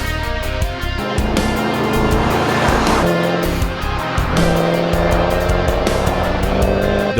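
A heavy Ford Mustang on air suspension runs a slalom course with a loud, continuous engine roar that rises and falls through the transitions, with tire noise throughout and no voices.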